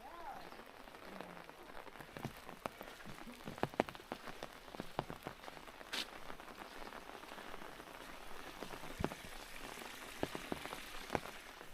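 Steady rain patters on a hillside trail leading up to a temple, with dense scattered drops and occasional sharper splashes throughout; no one speaks.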